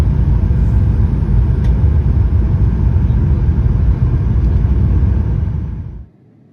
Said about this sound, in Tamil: லேண்டிங் வந்து ஆரம்பிச்சிட்டாங்க.